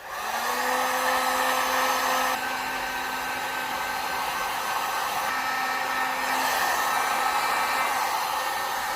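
A heat gun blows steadily on shrink tubing over welded cables, a loud, continuous whooshing hum with a faint tonal whine that shifts slightly partway through, no talking.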